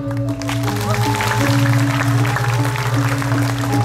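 Audience clapping at a Balinese Drama Gong comedy performance, a steady patter of applause mixed with sustained tonal music in the background, fairly close and continuous.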